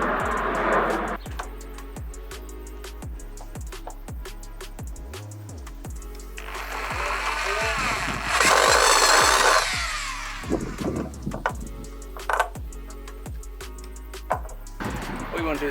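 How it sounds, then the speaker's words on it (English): A drill drives wood screws into wood while a Eufy solar panel charger for CCTV cameras is installed, giving repeated short whirring bursts with pauses between them and one longer, louder run near the middle. "since it's wood, as I mentioned, you can just drill this straight in."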